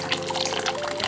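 Hot water pours into a container, a steady liquid gush and splash running through the moment, fairly close and alone with no talk.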